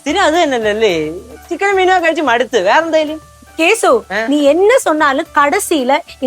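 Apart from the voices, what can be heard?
No everyday noises stand out.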